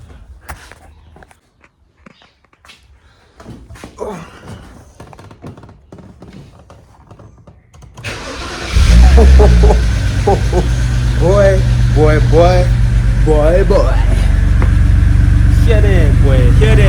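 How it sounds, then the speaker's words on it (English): BMW 330i engine cranking and catching around the midpoint after a quiet stretch with footsteps and tapping, then settling into a loud, steady idle that runs to the end while someone talks excitedly over it. "right now we're going to attempt to get this car started"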